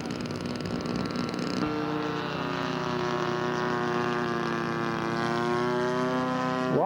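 A scale model Waco biplane flies across the flight line, its engine a sustained buzzing drone with strong harmonic whine that shifts pitch as it passes, steady and fairly near.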